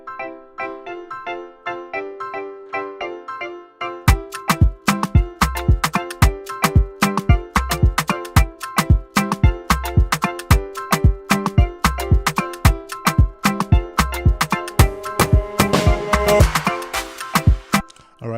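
An Afropop highlife instrumental beat with pianos panned left and right and an electric guitar in the center, entering after a soft sustained intro with dense, steady rhythmic hits and layered melodic lines, loud and continuous throughout.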